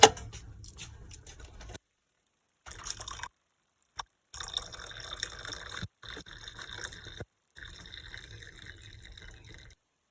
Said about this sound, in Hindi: अब्बू के लिए चाय निकाल रहे हैं।